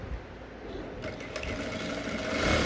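A sewing machine stitches an Ankara fabric top, a rapid steady mechanical whirr close up, running continuously and growing a little louder toward the end.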